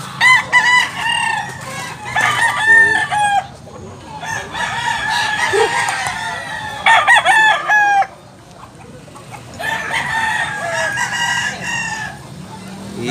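A gamecock rooster of the Sweater bloodline crows loudly and close in repeated long calls, interspersed with clucking and crowd chatter at a Tabunok, Cebu gamefowl sale.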